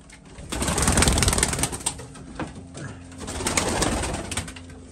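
Iraqi pigeons coo in a loft, a dense, continuous chorus of throaty calls that stays close and loud throughout, swelling and easing in waves with no voices.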